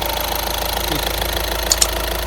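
Steady mechanical clatter of a warm Volkswagen Passat B7 1.6 TDI diesel engine idling close by, with two faint light ticks near the end.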